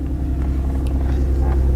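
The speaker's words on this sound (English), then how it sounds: "it's running very rough, I guess you could call it, and that's probably because 2 of the cylinders aren't really working" A car engine idles roughly with two dead cylinders misfiring, a loud, uneven low rumble close by with a lumpy, pulsing rhythm and no talk over it.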